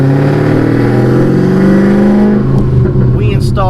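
A 940 hp modified Chevrolet Camaro ZL1, fitted with an X-pipe, a small Dynomax turbo-style 3-inch muffler, dual tips and exhaust cutouts, holds a loud, deep, sustained rev close by before the engine note drops off near the end.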